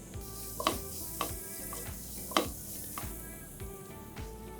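Turmeric, chili powder, coriander-cumin powder and garam masala sauté in a pan for street-style veg poha bhujing, a soft continuous frying hiss broken by a few sharp metallic scrapes and clanks of stirring.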